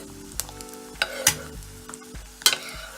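A sunny-side-up egg frying in butter gives a steady close sizzle, broken by a few sharp pan clatters and scraping bursts, over continuous tonal background music with no talking.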